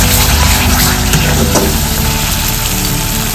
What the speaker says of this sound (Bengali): আবার আমি একটু এটাকে কষাবো